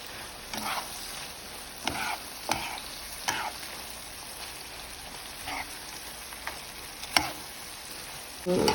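Kidneys cook in a covered pan with a low, steady sizzle, broken by several brief clinks and scrapes, one louder knock, and a rise in noise at the very end.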